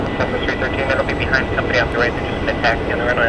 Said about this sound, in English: this flight here that's taking the runway is going to be Southwest 2185 going to El Paso, Texas, Boeing 737-700